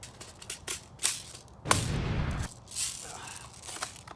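A Lancer Tactical M82 airsoft sniper rifle fires once with a sharp burst of noise, set among bolt and handling clicks and rattles. The sound is close and indoors.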